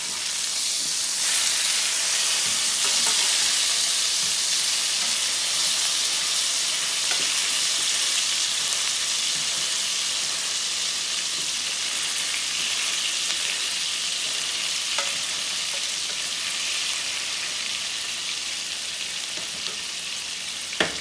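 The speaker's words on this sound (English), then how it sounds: "now we are going to turn our burgers over" Onion burgers fry in a pan with a steady, bright sizzle and hiss that runs unbroken throughout, close and fairly loud with no talking.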